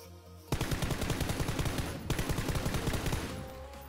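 Rapid automatic gunfire in PUBG Battlegrounds, a long run of sharp evenly spaced shots with a brief break partway, then more bursts trailing off, loud and close with no talk.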